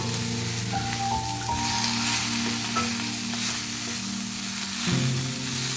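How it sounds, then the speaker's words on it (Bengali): Malabar spinach (pui shak) sizzles steadily as it fries with spices in a pan, a continuous close crackle with faint stirring and no talking throughout. "আমি কেটে রাখা পুঁইশাকগুলো দিয়ে দেব। এবং মশলার সাথে কিছুক্ষণ কষতে থাকবো।"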